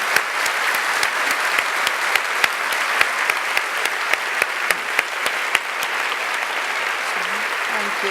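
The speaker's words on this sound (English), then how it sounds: "Another round of applause." Audience applause fills a lecture hall at a talks festival, dense steady clapping from a large crowd, sustained and even for the whole stretch.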